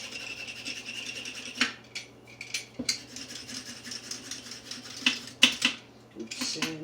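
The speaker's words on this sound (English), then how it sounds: "so I'm going to peel the carrots." Carrots being peeled with a hand peeler in a home kitchen: repeated short rasping scrapes come in irregular bursts over a steady low hum, with a few sharper clacks near the end.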